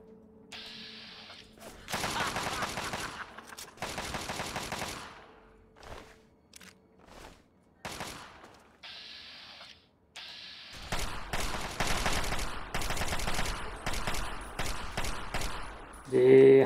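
Bursts of rapid gunfire in Fallout 3 crackle in several volleys separated by short pauses, with quieter mechanical clicks between them.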